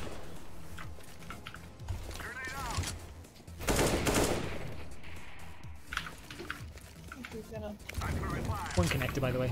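Gunshots ring out in a video game as bursts of sharp cracks and rapid fire, mixed with keyboard clatter, while a player talks excitedly over them.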